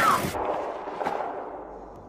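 A single flare gun fired at an animal, one sharp close blast followed by a fading airy whoosh and a dull rumbling tail.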